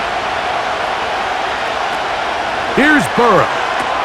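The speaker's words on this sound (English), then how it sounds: "This crowd into it now as we get to third down." A broadband stadium crowd roar from Madden NFL 25, Bengals versus Packers, swells steadily beneath a commentator's voice, with a short burst of speech near the end.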